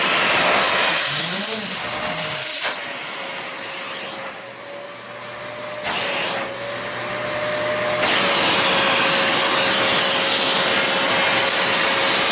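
Kenmore 81214 200 Series pet-friendly lightweight bagged canister vacuum cleaner running steadily and loudly throughout, its motor tone dipping briefly in the middle as if restricted, then returning to a full whine.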